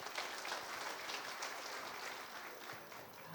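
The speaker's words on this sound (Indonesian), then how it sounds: "Boleh tepuk tangan?" Audience applause at an awards event, a steady wash of clapping sustained through the whole stretch at moderate distance, fairly faint and even without distinct peaks.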